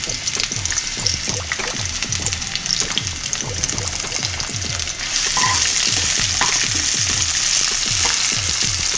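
Onions frying in two teaspoons of oil in a cooking pot, a continuous loud sizzle and hiss with a steady rhythmic popping underneath, growing slightly brighter partway through.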